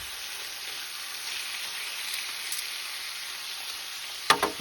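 Chicken thighs frying in a camp cooking pan with canned green beans at an outdoor overlanding campsite in Ohio. A steady, close, broadband sizzle runs throughout, ending in a few sharp clanks of a utensil against the pan, with no talking.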